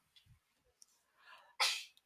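A single sharp sneeze bursts out in an algebra classroom, loud and close after a moment of near silence, preceded by a few faint breaths and small noises.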